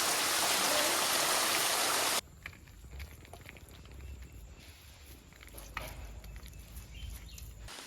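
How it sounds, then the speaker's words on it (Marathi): A burst of loud, dense rain noise for the first couple of seconds, then quieter outdoor sounds with light rustling and scattered drips. "पावसाने हजेरी लावली आहे"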